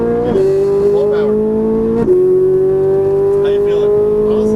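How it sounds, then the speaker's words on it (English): A Ferrari 458 engine pulls hard at full throttle on a race track, a steady loud drone that climbs in pitch across two gear shifts. An instructor speaks over it throughout. "Squeeze throttle at that apex, and accelerate now, back out left, go, go, go. Good, full power."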